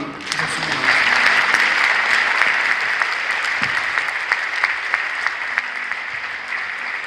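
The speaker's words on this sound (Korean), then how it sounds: "우리 감사의 박수를 한번 드리겠습니다." Sustained applause from a large congregation at an Easter union worship service in a Korean church, a dense steady clapping that swells early and continues evenly for several seconds without talk.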